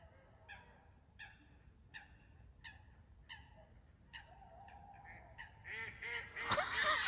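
Ducks at Charity Lakes, Lenwade, before dawn give a regular series of honking quacks, a few seconds apart, rising in density toward the end into a louder burst of calls, with faint background ambience.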